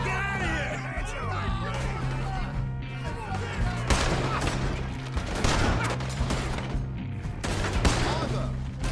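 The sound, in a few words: gunfire in Red Dead Redemption 2 video game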